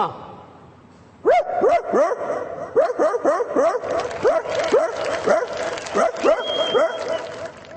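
A voice imitates a rich household's dog barking in a steady series of sharp, yelping barks, close and loud, after a brief quiet start.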